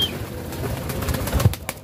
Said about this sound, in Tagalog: Ayan, mga ibon natin, nagbabaan na.